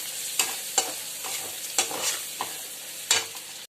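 Vegetables being stirred in a hot pan with turmeric, salt and chili powder, giving a steady sizzle broken by several sharp scraping strokes of the spoon, close and fairly loud, with no voices.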